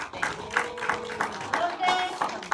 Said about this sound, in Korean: 우리 감독님들에게 박수를 좀 부탁드립니다.